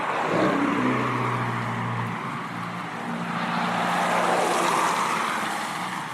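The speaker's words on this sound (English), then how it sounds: "with this traffic going by sporadically, I might miss it" A car passes on the road, rising and fading as it goes by, followed by another vehicle swelling in, with steady engine and tyre noise and no voices.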